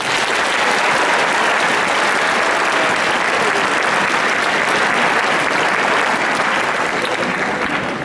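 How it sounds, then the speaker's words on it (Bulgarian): Audience at a school anniversary ceremony breaks into sustained applause, a dense, loud, steady wash of clapping from a large crowd filling the hall. "Аплодисменти!"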